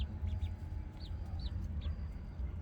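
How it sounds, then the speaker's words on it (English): Chickens in a backyard run give several short, faint clucks and chirps over a steady low rumble of background noise. "And this one was supposed to be Mary Poppins, but he is looking very rooster"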